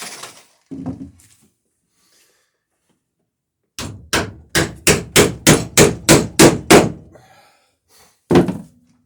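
A nail is driven into an oak plank while hanging boat planking, about ten sharp, evenly spaced hammer blows in a quick steady rhythm, close and loud, followed after a pause by one last strike; a few quieter knocks come earlier.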